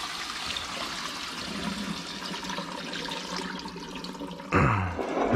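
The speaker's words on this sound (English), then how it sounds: "drain out this pasta" Lasagna pasta water pours out while being drained, a steady rushing wash of liquid that ends in a louder splashing surge.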